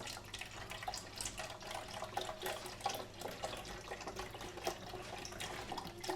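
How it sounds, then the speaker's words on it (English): Beef broth pours steadily into a container, a continuous watery splashing stream with faint clinks, fairly close and loud throughout. "We're going to add our beef broth to our container."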